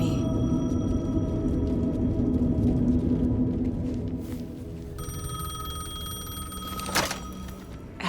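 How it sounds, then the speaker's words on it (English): A payphone rings in the Alan Wake 2 game, its bell cutting in partway through over a dark droning ambience, with a sharp thump just after. "The payphone was ringing."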